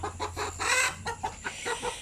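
Native chicken clucking nearby, a short run of soft repeated clucks over a low steady background hum, with no one speaking.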